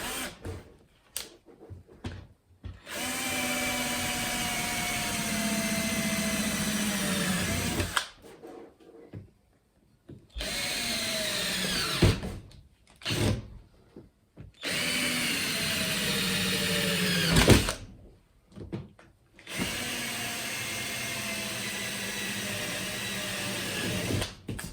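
A power drill drives Phillips-head screws into a van roof vent fan during installation, with repeated whirring bursts of a few seconds each, rising and falling in pitch and separated by short silent pauses.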